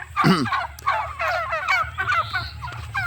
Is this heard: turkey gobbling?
yes